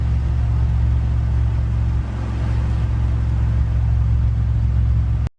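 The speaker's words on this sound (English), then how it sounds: "So I don't know if you could hear the wastegate open up" A loud, steady turbocharged OBS truck engine rumbles at a constant drone while street driving, with a brief dip in level midway and a faint rushing hiss of the turbo wastegate venting.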